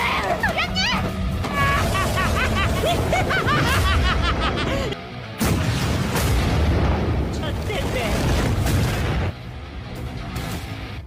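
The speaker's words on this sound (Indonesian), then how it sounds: "Setelah kejadian ledakan gedung konstruksi" Bomb detonation bringing down a construction building in an anime, heard as dense, loud rumbling booms and crashing debris that fill the clip, with a brief dip midway and layered music or effects throughout.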